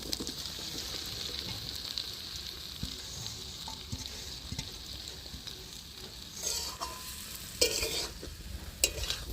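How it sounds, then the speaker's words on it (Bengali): Jackfruit added to a pan of fried masala and stirred in, a steady sizzle of oil under repeated scraping strokes that grow louder and more clattering toward the end, close by with no talking. "এবার আমি এঁচড়টা দিয়ে দিচ্ছি।"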